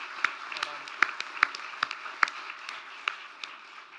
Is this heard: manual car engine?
no